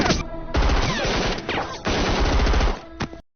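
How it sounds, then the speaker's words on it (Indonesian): Heavy gunfire in a shootout between special forces and terrorists in an Indian action film: loud, dense bursts of rapid shots with crashing impacts, a brief lull near the middle, then another sustained volley that cuts off sharply. "Mayor Singh segera beraksi dan baku tembak pun terjadi"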